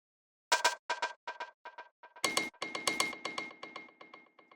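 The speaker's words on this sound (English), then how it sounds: "So what these are just like this little bell sound, and then this little like percussion, I guess it's like a bongo or something." Small bell tones and bongo-like hand-drum hits from a drum group play in a quick, irregular rhythm of a dozen or so short, crisp strikes, close and clear with no voice.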